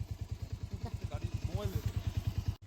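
A motorcycle engine chugs in a fast, even putter on a steep, skiddy hill road near Tabakoshi, North Bengal, while people talk over it before a brief cutoff at the end.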